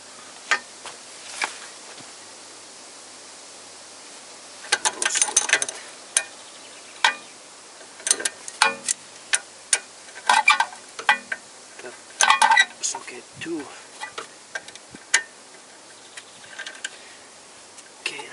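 A ratchet fastens a bolt on the right-side driveshaft of a Toyota Corolla with a VVT-i engine, giving irregular bursts of sharp clicks spread over the stretch, some close together, with no talking.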